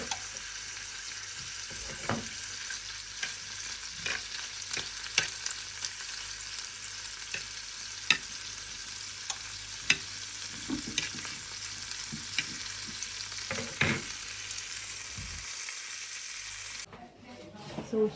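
Bacon pieces and pasta fry in a pan with a steady, soft sizzle, broken by the scrape and clack of stirring, close by and moderately quiet.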